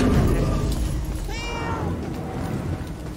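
Inside the video game Murdered: Soul Suspect, a cat lets out a single short meow at mid-level volume over steady low ambient game noise.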